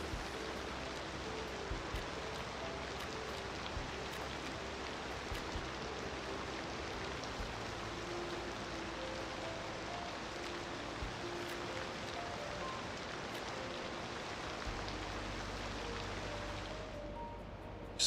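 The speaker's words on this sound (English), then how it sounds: "That's the sound of rain, like hitting a tent or something." Rain drumming as if on a tent in Cities: Skylines II, a continuous, close patter with a low rumble beneath that deepens near the end, with no voices.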